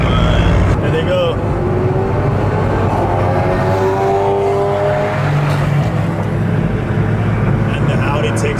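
An Audi S3 tuned to about 500 hp and a Volkswagen GTI with a Vortex turbo accelerate side by side, a loud continuous engine drone heard from inside a nearby car while people talk over it.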